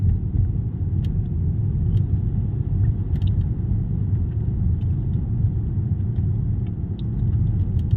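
A car engine rumbles steadily while driving, a low, constant drone heard from inside the moving vehicle with faint clicks on top and no clear talk.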